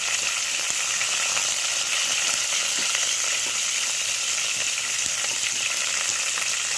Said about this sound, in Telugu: ఈ టైంలోనే కొంచెం వేగాలండి, లేకపోతే పచ్చిగా ఉంటాయి పచ్చిమిరపకాయలు.